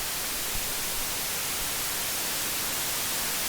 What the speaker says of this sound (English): Every minute it produces, here it comes, a very obnoxious white noise that lasts very long